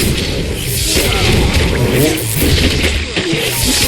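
In a Battle Realms real-time strategy battle, repeated booming blasts and crashes come close and loud amid dense game noise.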